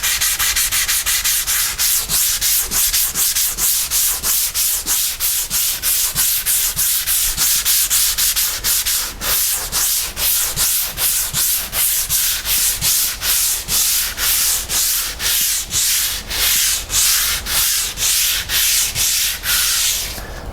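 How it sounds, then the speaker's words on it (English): Steady back-and-forth scratching of a hand sanding sheet on dried drywall joint compound along trim, the sheet's corner worked into the edge; rapid, even rasping strokes close by and continuous, with no talk. "Just want to sand that off. You notice I'm using the corner of my sheet here to get in there."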